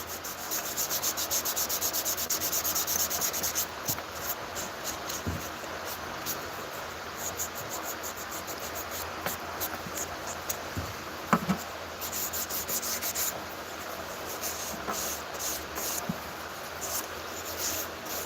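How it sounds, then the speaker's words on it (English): Hand sanding wooden pieces with sandpaper in a workshop, repeated back-and-forth rubbing strokes in uneven bursts, close and moderately loud, with a few sharp knocks and pauses between passes. "So then we'll try to hand sand these a little bit."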